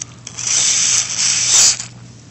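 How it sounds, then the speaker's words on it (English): Silicone oil sprayed from a can into the gas nozzle of a WE full-metal 1911 MEU heavyweight airsoft gas blowback pistol, heard as close, loud hissing bursts, one long and a stronger one near the end, with no talking. "I spray a little bit into the little nozzle area"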